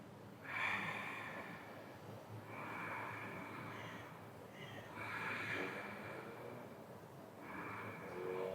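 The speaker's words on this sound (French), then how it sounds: "Et on respire ici." Slow, deep breaths during a beginner yoga pose, each long airy inhale and exhale close and clearly audible, repeating in an even rhythm with no talk.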